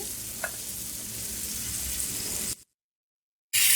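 Sliced okra and green chilies frying on a tawa for masala bhindi, giving a steady close sizzle with faint stirring, then a sudden drop to silence before the sizzle returns.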